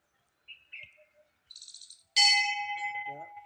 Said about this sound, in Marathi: मस्त घंटा वाजून आत एंट्री करायची